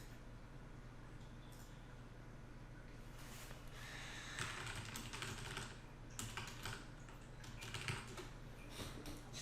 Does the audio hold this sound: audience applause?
no